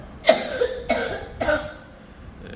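A child coughs three times in quick succession, each a sharp, close hack with a short rasping tail, followed by a quieter pause.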